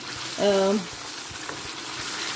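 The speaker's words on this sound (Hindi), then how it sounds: "ये देख रहे हैं आप, बहुत ही अच्छी शक्ल भी निकल आई है और बहुत अच्छे से फ्राई हो गई है।" Chicken karahi with tomato pieces fries in a wok, giving a steady, close sizzle throughout, broken by a brief tonal sound near the start.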